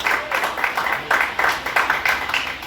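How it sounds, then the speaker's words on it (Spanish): A church congregation gives a short round of applause during a Spanish-language sermon, a modest rhythmic clapping with crowd murmur underneath. "dale un aplauso a Dios"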